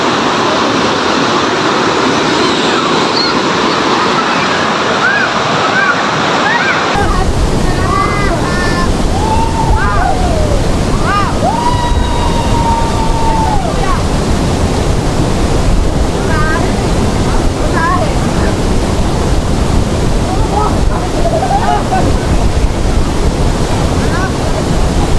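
Claredita waterfall rushing with a steady, loud broadband roar of water and wind buffeting the microphone throughout, with people talking faintly under the noise.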